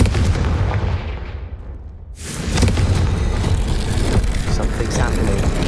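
A Confringo fire spell blasts in the Hogwarts Legacy video game, a loud booming explosion that drops into a brief hush and then erupts again into a sustained rumbling roar.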